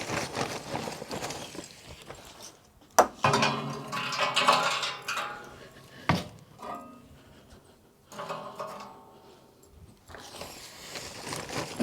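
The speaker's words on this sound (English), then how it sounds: "pieces of charcoal to get this grill started" Charcoal pieces dropped and shuffled into the corner of a blue kettle grill fitted with a Slow and Sear insert: bursts of close, dry clinking and rattling come in clusters with sharp clacks and short pauses, and no voices.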